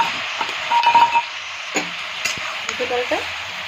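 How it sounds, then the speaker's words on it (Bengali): Vegetables and masoor lentils fry in a pan for sambar with a loud, steady sizzle. Stirring scrapes and a few clinks break in now and then. "একটু ভালো করে ভেজে নেবে।"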